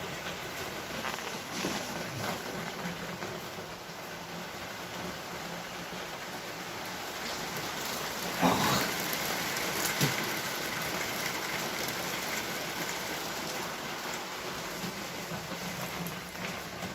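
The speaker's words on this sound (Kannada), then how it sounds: "ಜೋರ ಐತಿ ಮಳಿ ಬರತೈತ್ರಿ ಹೊರಗೆ" Heavy rain falling outdoors, a steady broadband hiss of downpour heard from inside, continuous and fairly loud with a couple of faint knocks partway through.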